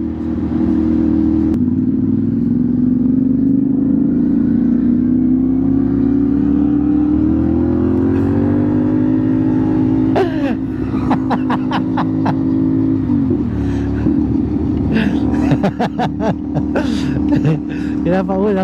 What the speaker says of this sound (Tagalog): Ang ingay ng tambutso.